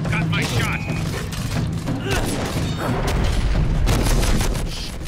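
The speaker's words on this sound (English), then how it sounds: "Two grenades at it." Grenade blasts in the action game Too Human: heavy booming explosions and rattling gunfire-like bursts, loud and close, overlapping in a chaotic stretch with voices talking underneath.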